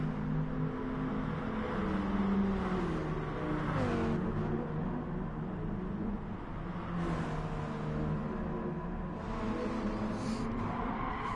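A car engine in the racing game Gran Turismo Sport drones steadily and rises and falls with shifting revs while the car runs off the track into the dirt, holding a continuous, fairly loud hum throughout.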